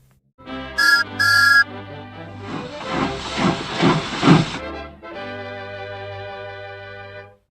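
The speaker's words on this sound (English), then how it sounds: "Then Gordon heard a whistle." Two short, sharp steam whistle toots, then a long hissing burst of steam, followed by a steady low chuffing hum of an engine.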